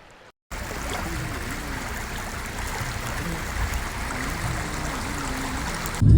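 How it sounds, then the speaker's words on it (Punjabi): Floodwater rushes past in a steady, close, continuous flow with a gurgling wash, a faint low wavering hum running underneath, and a brief louder bump at the very end. "ਦਿਖਾ ਪਾਣੀ ਚੱਲਦਾ"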